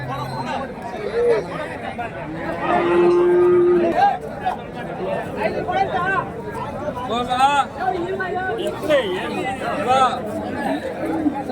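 Busy outdoor cattle market in Kundarapalli, Krishnagiri district, with overlapping chatter and voices, a low moo-like tone from dairy cows rising briefly amid the babble.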